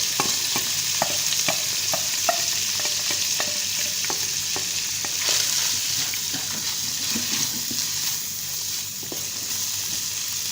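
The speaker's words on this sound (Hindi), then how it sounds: "चिकन ब्रेड रोल की फिलिंग के लिए सबसे पहले एक बर्तन में 4 टेबल स्पून कुकिंग ऑयल डालकर गर्म करेंगे और उसमें डालेंगे हमारा उबला हुआ रेशे किया हुआ चिकन" Boiled shredded chicken fries in four tablespoons of hot cooking oil in a pan, a steady close sizzle with repeated stirring scrapes throughout.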